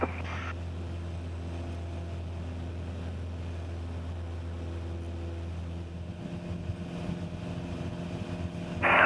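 Steady drone of a light training aircraft's piston engine in the cabin during takeoff from runway 19, a constant low hum with a brief radio burst at the start and end.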